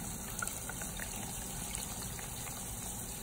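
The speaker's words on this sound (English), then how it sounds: "let's go ahead and pour that water on the iPhone" Water pours onto an iPhone XS in a steady, close, gushing splash that runs without a break and without any talk.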